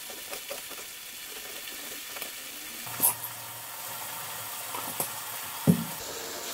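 Low, steady sizzle of boerewors sausage frying in a pan, with a few soft clatters and a brief knock partway through.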